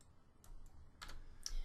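Computer keyboard typing on a search page: a few short bursts of keystrokes separated by pauses, quiet and close.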